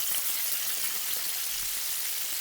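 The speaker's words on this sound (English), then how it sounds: "Carefully place the chicken into the oil." Chicken fries in hot oil with a steady, bright crackling hiss, close and continuous, with no voices.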